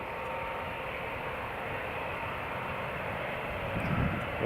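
An Air France airliner taxies at Newcastle International Airport, its jet engines a steady, broad roar heard from a moderate distance, unchanging throughout with only a slight swell at the end.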